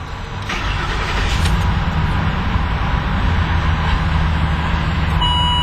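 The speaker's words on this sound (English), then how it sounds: "Very nice sounding engine." A 2011 Ford Expedition King Ranch, a full-size SUV with very low miles, idles steadily after starting, giving a loud, continuous engine rumble close to the microphone with a brief electronic chime near the end.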